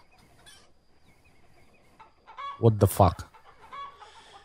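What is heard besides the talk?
chickens clucking in Farmer's Life video game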